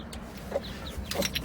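Chickens cluck in short, soft calls over a low background hum in a farmyard coop, fairly faint and a little distant.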